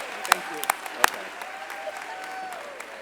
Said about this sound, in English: Let's give the world's newest social workers a round of applause.